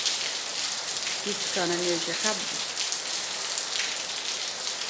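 Heavy rain pours down steadily, hard enough to bring hail, as a dense, constant hiss that runs the whole time. A person speaks briefly over it partway through.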